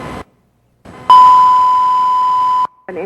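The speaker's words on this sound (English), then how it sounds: "Tone a second alarm for this address." A Kalamazoo fire dispatch radio sounds a second-alarm tone: one loud, steady beep of about a second and a half. Short bursts of radio noise come just before and after it.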